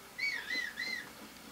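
Link whistles for his horse in The Legend of Zelda: Breath of the Wild, a faint run of three short rising-and-falling whistle notes over a low game background, with no talking.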